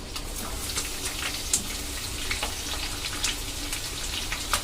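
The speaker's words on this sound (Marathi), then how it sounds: "कांदाही 2 मिनिटं परतूया." Onion sizzling in a pan while cooking egg and sausage fried rice, a steady crackling hiss with scattered sharper pops, close and even throughout with no talking.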